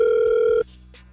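A telephone dial tone, a loud, steady hum that holds for just over half a second and then cuts off abruptly, followed by faint line noise.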